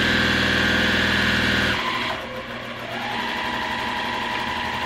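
A sewing machine backstitches fabric mask pieces together with a loud, steady motor hum that drops briefly partway through and then resumes at a lower, even pitch.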